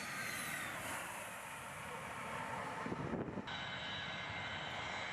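A low-flying military jet passes over a two-lane highway, a broad steady roar of engine noise with a brief gusty swell midway, moderately distant and fairly faint, no talking.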